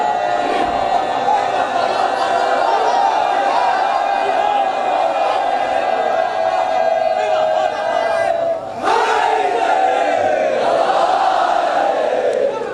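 A large gathering at a majlis in an imambargah during the Muharram ashra chants religious slogans in loud unison, the sustained voices filling the space with only a brief break near the end.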